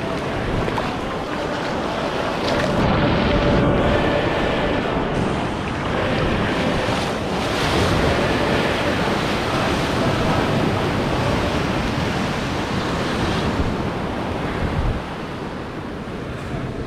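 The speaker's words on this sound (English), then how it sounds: "I'm at Mainavale Beach today." Ocean waves at Mainavale Beach roll and break continuously in a steady, loud wash of surf, with gusts of wind buffeting the microphone and no talking.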